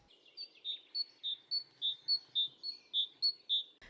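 A great tit sings a bright, high two-note tit-tut phrase repeated about a dozen times in steady rhythm, clear and alone against a quiet background.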